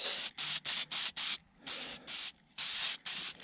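Black 1200-degree high-heat spray paint hisses from an aerosol can onto a Komatsu D51 dozer part in quick repeated bursts with short gaps between, loud and close, with no one talking.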